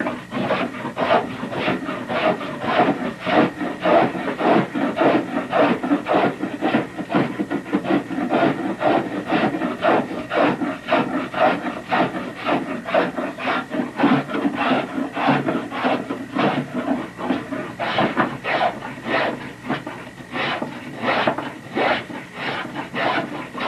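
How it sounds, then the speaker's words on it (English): A hand tool shaves and rasps wood to dress a boat deck level with the gunwale, giving rapid, continuous scraping strokes close up in a steady rhythm without talk. "Shaving it all off nice, so it's got a nice curve to it"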